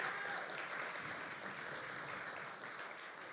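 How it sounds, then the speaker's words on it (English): A forum audience at an immigration event claps in a dense, steady round of applause that fills the moment at moderate volume and fades slightly toward the end. "And yes, applause, because that was very good."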